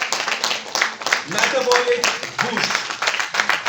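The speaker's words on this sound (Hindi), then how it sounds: "तो एक बार जोरदार तालियां हो जाए." An audience claps at a product training event for a metabolic boost product, a dense patter of applause mixed with someone speaking over it.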